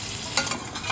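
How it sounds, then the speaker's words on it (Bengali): Pieces of pointed gourd (potol) fry in hot oil with a close, continuous sizzle, and a brief scraping stir of the pan comes midway. No one speaks. "এদিকে পটলটাকে কিন্তু ভালো করে ভাজতে হবে, যেন প্রত্যেকটা পটলে ভালোভাবে দাগ ধরে যায়"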